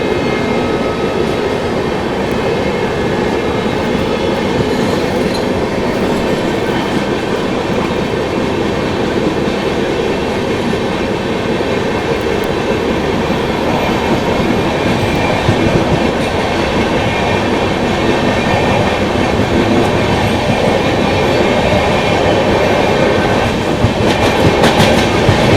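Trains running one behind another on an Indian railway line, a steady rumbling roar with clickety-clack of wheels over rail joints and faint squeal, continuous and fairly close with no talk.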